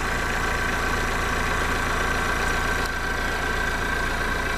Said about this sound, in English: The air is coming out very strongly around here.